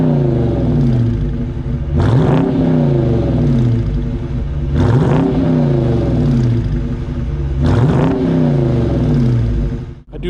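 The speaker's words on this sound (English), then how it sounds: "I do like Dodge's exhaust." A throaty 2021 Dodge Charger R/T exhaust revs up three times, each rev rising sharply then settling back to a deep, rumbling idle.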